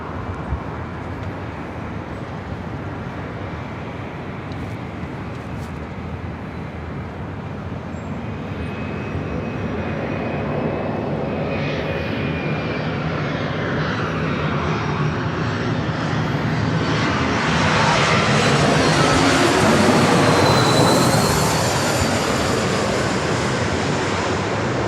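A jet airliner departing LAX roars with a building engine rumble and high whine that swells louder over about twenty seconds, steady and continuous without speech.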